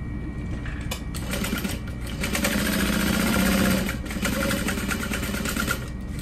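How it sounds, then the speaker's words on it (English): A sewing machine stitches across the top of a Louise Barrel Bag, a steady close whirr that runs unbroken for the whole stretch and swells slightly in the middle, with no voices over it. "I'm sewing across the top"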